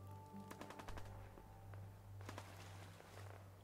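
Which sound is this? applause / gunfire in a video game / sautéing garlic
gunfire in a video game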